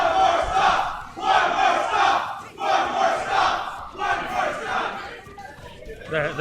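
A tournament crowd at a monthly competition event roars and shouts in repeated loud surges, voices massed together with chatter and yells rising and falling.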